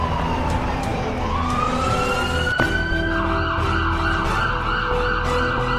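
Ambulance siren in a mobile animal rescue game, a loud wailing tone that sweeps up and down and then steadies into a rising, sustained wail over engine rumble.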